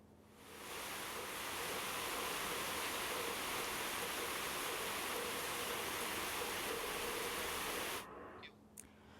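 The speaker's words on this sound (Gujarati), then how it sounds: "નવસારીમાં પણ સતત બીજા દિવસે કમોસમી વરસાદ ખાબક્યો." Unseasonal rain in Navsari pours down as a dense, even hiss that fades in, holds steady and loud for several seconds, then cuts off abruptly near the end.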